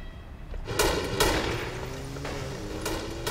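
A few distant gunshots crack out in a scattered burst over a steady, noisy outdoor background.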